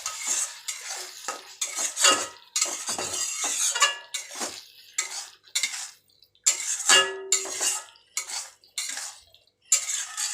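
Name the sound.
stirring ghugni in a pan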